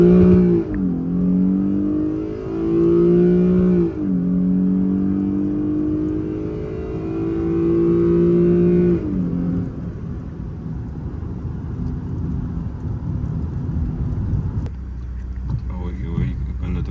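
A Genesis 5.0 car launches at full throttle from around 4,000–4,500 rpm, its engine droning loud and close with rising tones and pauses at gear changes, then fading into rough road and wind roar.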